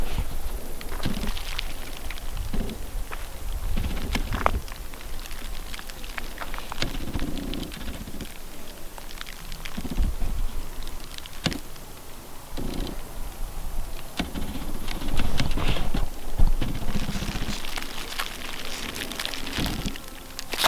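Flea beetles leap off brittle, crunchy dead plants in a high mountain valley garden in early August, making a continuous soft, rain-like patter of tiny ticks that swells and fades close by.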